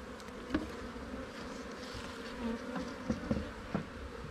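A bee buzzes close by outdoors in a steady low drone, with a few sharper swells as it moves near and away.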